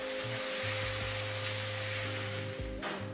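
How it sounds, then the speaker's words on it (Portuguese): Flaked salt cod sautéing in olive oil and garlic in a pan, a steady bright sizzle holding throughout, close and fairly loud over a low kitchen hum. "Eu vou deixar este bacalhau refogar mais ou menos uns 10 minutos no azeite e no alho."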